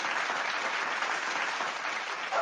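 Steady applause from an audience greeting an honoured guest on a talk show, continuous and fairly dense clapping for a couple of seconds with no voices over it.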